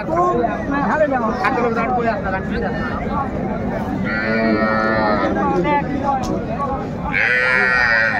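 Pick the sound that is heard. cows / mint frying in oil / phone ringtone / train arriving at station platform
cows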